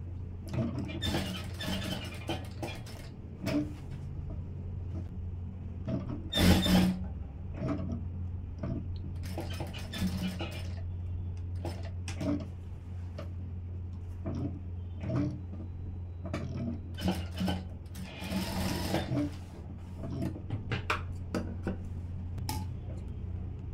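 Sewing machine stitching the slit of a silk skirt, a steady low motor hum with irregular ticking and clicking bursts as fabric is fed, recorded close and fairly quiet.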